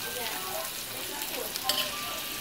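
Garlic fries in butter and oil in a hot pan, with a steady close sizzle and light crackle and a brief stirring scrape near the end.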